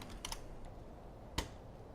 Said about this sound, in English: I'm going to type in metal.